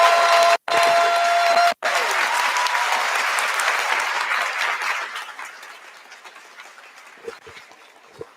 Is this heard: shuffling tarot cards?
no